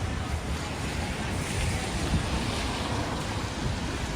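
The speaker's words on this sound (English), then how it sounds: "The wind definitely picked up." Strong wind buffets the microphone on a snowy Manhattan street near freezing, a constant loud roaring rush with gusty swells and no break.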